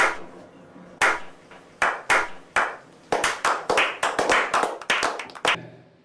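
Hand claps at a steady, uneven pace, starting as a few spaced single claps and building into a faster run of sharp, close, loud claps, with no talking.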